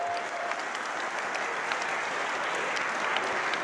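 Wrestling crowd applauding steadily at a match between Ricochet and Jonathan Gresham, a dense even wash of clapping held at one level throughout.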